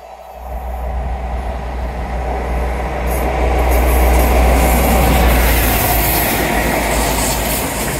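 The Midland Pullman train runs past on the seawall at Teignmouth, a loud, close, sustained rumble of wheels and engine that swells and holds, with no talk.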